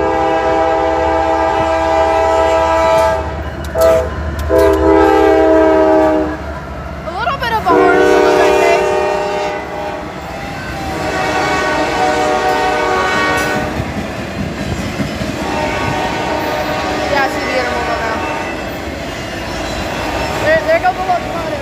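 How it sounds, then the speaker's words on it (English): A freight rack train passes at Folkston, Georgia, opening with long loud horn blasts, then steady rolling clatter of railcars close by; people talk over it. "I think that's the first rack train I've seen today."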